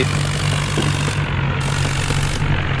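A John Deere tractor engine in the Indian Vehicle Simulator game roars steadily at full power while towing a truck, a dense, loud, continuous drone with no pauses.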